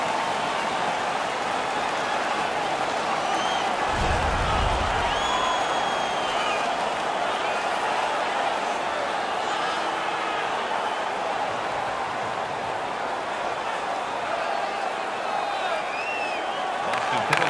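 A crowd roars in the NHL 16 ice hockey video game during a Los Angeles Kings versus Boston Bruins match, a sustained wash of cheering and whoops under faint chatter, with a brief low thump partway through.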